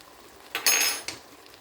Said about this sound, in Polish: To wszystko mieszamy i zostawiamy ponownie pod przykryciem na jakieś 5-7 minut.